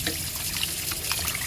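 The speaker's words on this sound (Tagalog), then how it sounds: "Lagyan na natin ng sabaw." Broth is poured into a pot of softened mung beans, a steady close splashing stream with no break and no talking.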